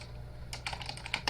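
Several quick bursts of computer keyboard typing begin about halfway through, close and crisp over a low steady hum, with no voices.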